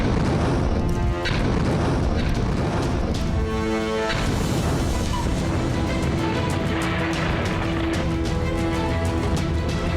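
A dropped bomb blows up a truck in southern Lebanon, with loud, dense booms and crashing bursts that fill the whole stretch continuously, several sharp impacts standing out over a roaring, rumbling wash.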